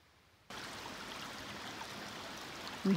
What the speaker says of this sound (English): now we've reached Black Canyon Creek